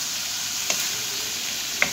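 Capsicum keema being stirred and fried in a pan gives a steady, even sizzle that holds throughout, with two faint scrape clicks from the stirring utensil.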